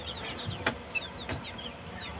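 Rhode Island chickens cluck in a coop, a few soft clucks and short calls scattered over a low steady background hum, fairly close but quiet, with no talk.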